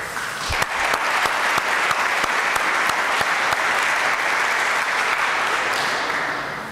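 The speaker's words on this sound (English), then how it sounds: "So give yourself a round of applause for achieving this point." Sustained applause fills the room at an ROTC commissioning ceremony, a steady wash of many hands clapping with a few sharp individual claps standing out, continuing evenly for several seconds before easing slightly.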